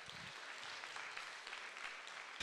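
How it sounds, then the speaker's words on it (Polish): Audience applause at a Polish gala or award ceremony honouring patrons, sponsors and partners, a dense, steady wash of many hands clapping throughout at moderate level, with a brief low voice at the very start. "Ogromne brawa dla wszystkich Państwa."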